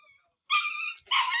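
Puppies whimpering and yipping in a few sharp, high-pitched bursts with a short gap between them, near and fairly loud after a quiet start.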